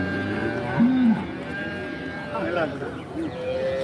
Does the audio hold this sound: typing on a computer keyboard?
no